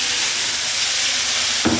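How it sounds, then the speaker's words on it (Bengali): Water poured into a hot pan of rohu fish curry with cauliflower and potato, a loud hissing rush of steam and sizzle that builds briefly, ending with a sharp knock, close up. "তো একটুখানি জল দিয়ে দিচ্ছি"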